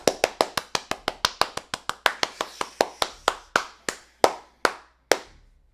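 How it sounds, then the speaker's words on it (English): A single person claps alone in a quiet room, about twenty sharp close claps, quick and even at first, then slowing and spacing out until the last few land with long gaps. "Everybody clap it up."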